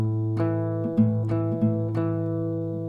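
An acoustic guitar plays the closing section of a song's riff around an open A, with four evenly spaced plucked notes ringing over a sustained bass drone, close and clear.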